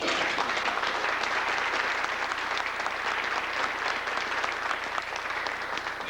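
Sustained applause from a seated audience at a 2005 E9-1-1 Institute program honoring Senator Conrad Burns in Great Falls, steady dense clapping throughout, no voices.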